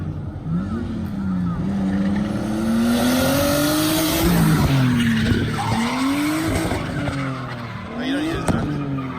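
A drift car in Japan slides through a long skid, its tires squealing in sustained rising and falling wails over a loud, steady engine roar, with nearby voices talking now and then.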